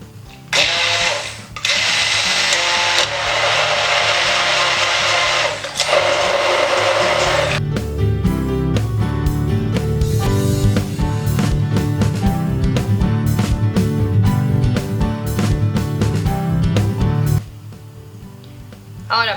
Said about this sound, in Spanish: Y lo trituramos bien.